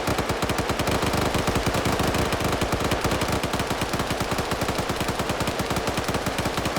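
Sustained automatic PKM machine gun fire in a video game, rapid even bursts at full loudness with no pause, overlapping shots blending into a continuous rattle.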